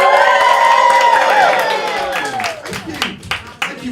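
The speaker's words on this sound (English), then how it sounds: "Lovely round of applause that you gave me there." Comedy-night audience applauding and cheering as a comedian is welcomed to the stage, a loud continuous wash of clapping and whoops that tapers off over a few seconds while the comedian starts talking over it.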